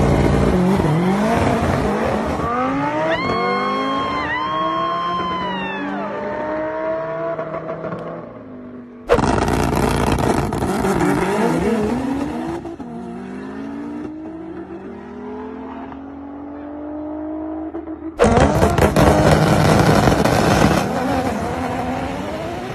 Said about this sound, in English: Here is an Evo 8 beating a Huracan and several other cars in a race.